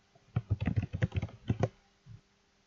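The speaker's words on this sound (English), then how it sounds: "Let me just type in Academy here" Someone types a single word on a computer keyboard, a quick close cluster of about eight crisp key clicks, then one lighter tap after a short pause.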